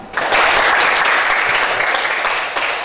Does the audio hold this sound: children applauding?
yes